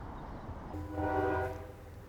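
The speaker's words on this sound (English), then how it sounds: "the train feels good about that because he honked his horn at the perfect moment." A train horn sounds once, a steady tonal blast at moderate distance, heard over low rumbling background noise.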